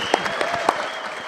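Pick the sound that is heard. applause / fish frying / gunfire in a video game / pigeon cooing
applause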